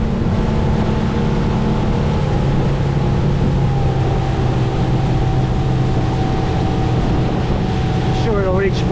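A 2017 Key West 239FS center console boat cruises at about 32 mph: loud, continuous engine drone mixed with rushing wind and water, steady throughout.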